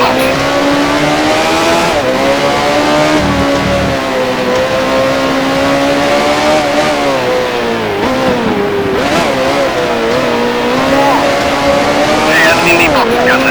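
A 1979-era Formula One race car in the F1 Challenge video game at the Jarama circuit in Spain drives into the pit lane, its loud engine droning and shifting pitch steadily, with tire noise and a German voice over it.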